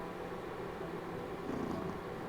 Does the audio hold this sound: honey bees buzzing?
no